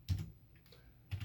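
Typing on a computer keyboard while setting up a Raspberry Pi, heard as two short clustered bursts of close key clicks separated by a quiet pause.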